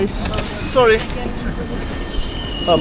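A train rumbles steadily with a metallic squeal at Vienna station, while people talk nearby over the noise.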